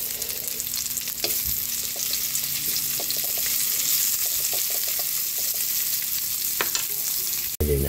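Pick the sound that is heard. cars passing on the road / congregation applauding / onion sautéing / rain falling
onion sautéing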